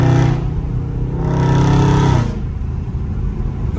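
A Dodge Scat Pack V8 in traffic downshifts and revs, giving a loud, close roar that swells for about a second and then settles back to a deep idle rumble.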